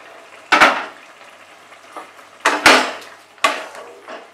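Ridge gourd and poppy-seed curry with potato cooking in a pan over high flame, with sharp bursts of sizzling and stirring scrapes about once a second, loud and close, separated by quieter bubbling.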